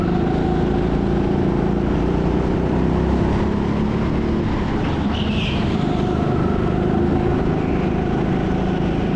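Go-karts race on the TeamSport Sheffield indoor track: a loud, continuous engine drone close by, rough and unbroken throughout, with no pauses.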